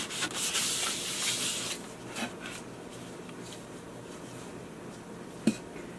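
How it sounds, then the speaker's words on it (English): Light hand sanding of a wooden picture frame with 220 or 400 grit paper makes a soft rasping scrub for a couple of seconds, then fades into quiet room noise with a few faint handling taps. "we went ahead and did a light sanding. I believe this was 220 grit or 400 grit."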